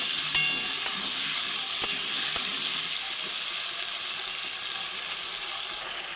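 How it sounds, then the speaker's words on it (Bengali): Diced potatoes fry in a pan with a steady, bright sizzle and hiss, occasional soft clicks of stirring, close and continuous without talking. "আলুটা একটু ভালো করে ভাজা করে নেব।"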